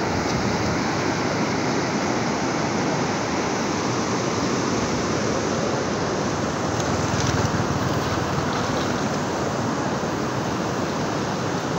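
Continuous rushing roar of a large, clear river running high in Barangay San Roman, Victoria, Northern Samar, steady broadband water noise close by with no voices.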